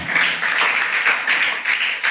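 Church congregation applauding for the Lord after a call to worship, a steady dense wash of clapping that holds at an even level for the whole stretch with no voices on top.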